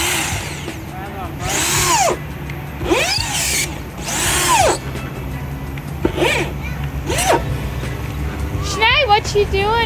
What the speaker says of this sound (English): So Mom's just drilling it in now.